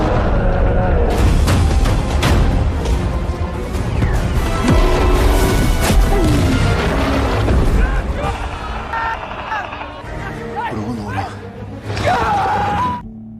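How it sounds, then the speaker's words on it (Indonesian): Gunfire and heavy blasts from advanced military weapons fired at a stone troll in a film, a dense continuous barrage of booms and crashes layered with score and shouted voices throughout. "sang jenderal langsung memerintahkan untuk segera menembak troll dengan senjata canggih yang mereka gunakan"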